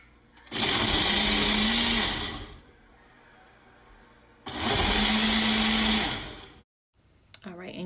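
A blender whirs loudly through a spinach fruit smoothie in two strong bursts of roughly two seconds each, with quieter gaps between and a voice talking briefly at the end.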